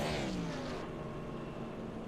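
Simulated NASCAR-style stock car engines from an iRacing Winston throwback series at Rockingham, sounding rough as if missing a cylinder, drone steadily and loud throughout with a falling harmonic pitch, no talk.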